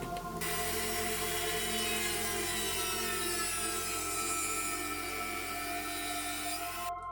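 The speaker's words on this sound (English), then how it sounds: "Now you can use the Dremel tool to cut it to correct shape." A Dremel rotary tool cuts a piece of plastic to shape with a continuous high-pitched whine and grinding buzz lasting several seconds, near and alone, stopping abruptly at the end.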